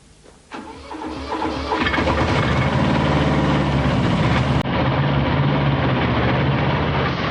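Mercedes E-Class estate turbo diesel from 1997 starting up, a quick crank catching into a loud, steady clattering idle that runs on close and even with no talking.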